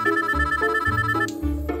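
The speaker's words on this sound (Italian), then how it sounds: "Il telefono." Telephone ringing inside an escape room game, a loud electronic ringtone with repeated tonal bursts over a music-like backing, close and clear with no voices.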